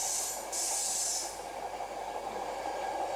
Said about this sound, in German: Das hier ist der Bahnhof Berlin-Alexanderplatz.